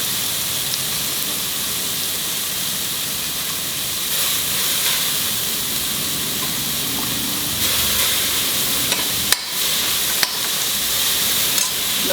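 Soaked dry prawns frying with softened onions and tomatoes in a pan over a lowered flame give a steady, close sizzle with occasional stirring scrapes and a few sharp clinks, continuous throughout with no talk.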